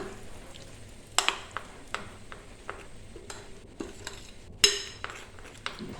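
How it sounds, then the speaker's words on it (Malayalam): Quiet scraping and occasional clinks of a utensil mixing ripe jackfruit unniyappam batter in a bowl, irregular strokes with a few sharper taps. "എല്ലാം കൂടി നന്നായിട്ടൊന്ന് മിക്സ് ചെയ്ത് കൊടുക്കാം."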